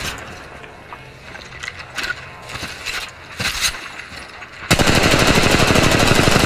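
Apex Legends Mobile gunfire, scattered distant shots and clicks, then a loud close machine-gun burst with rapid, even rhythm.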